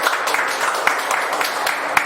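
An audience in a television studio applauds and cheers, a dense, steady patter of clapping with a few sharper individual claps, briefly and fairly loud.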